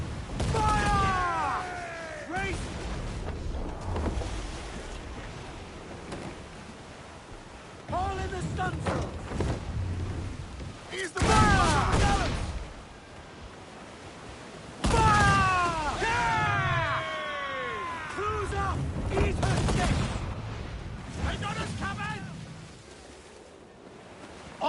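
Ship cannons in Assassin's Creed Black Flag fire in several heavy, booming volleys spaced seconds apart amid sea battle noise, while shouting crew voices call out between and over the blasts.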